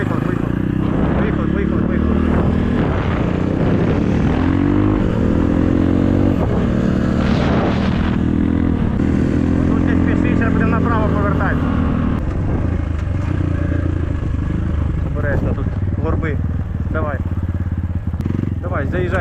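A KAYO TSD 110 enduro motorcycle engine running loudly and steadily at close range on an off-road training ride, revs rising and falling, with a person talking over it.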